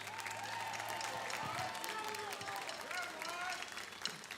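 A crowd at a high school football senior night applauds the graduating class, a steady wash of clapping and cheering from the stands with a public-address voice carrying over it.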